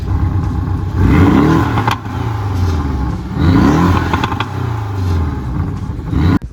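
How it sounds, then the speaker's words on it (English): The engine of a 2019 Porsche Boxster GTS in sport mode revs loudly and up close in two rising, swelling bursts, with lighter mechanical clatter between them and a sharp knock at the end. "All right, sport mode."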